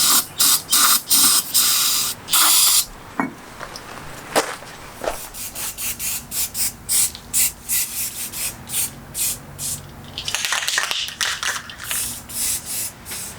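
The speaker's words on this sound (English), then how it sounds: "I'm gonna use some brake clean and kind of flush the inside out" Repeated short hissing bursts of aerosol brake cleaner sprayed to flush old grease from a car's brake housing, some long and some quick in a rapid series, with scraping and rubbing sounds between them.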